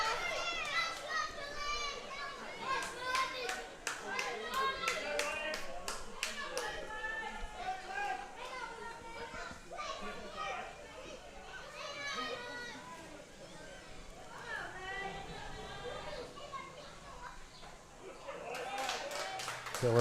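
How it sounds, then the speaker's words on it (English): Spectators at an under-13 mixed softball game, mostly children chattering and calling out together with scattered claps and taps, a lively, constant crowd murmur that rises and falls. "you can hear the crowd hanging on every pitch"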